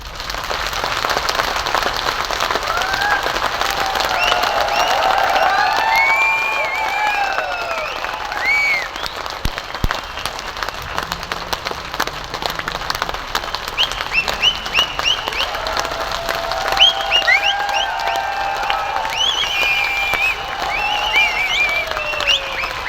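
Large audience applauding at a motivational speech in Bhilwara, Rajasthan, a long sustained roar of many hands clapping with scattered cheers and shouts rising above it, steady and fairly loud throughout.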